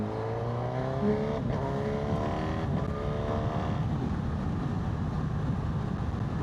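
A Honda CB1000GT motorcycle carrying a rider and pillion runs downhill through a chicane, dropping gears on the quick shifter; a steady, close engine drone shifts pitch at each gear change, with no talk.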